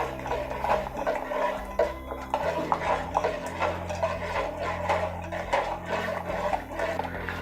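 Beetroot vadiyalu batter is stirred in a pot, with a soft, rhythmic scraping and ticking of the spoon against the metal that continues close-up over a steady low background hum, with no talking.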